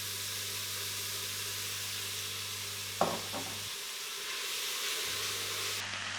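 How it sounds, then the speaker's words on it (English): Onion and carrot sizzle steadily in a pan of bacon juices and olive oil, a constant close frying hiss with a brief stir clatter midway. "into the pan with the onion and the carrot, and we'll be cooking this off in all of those bacon juices and olive oil"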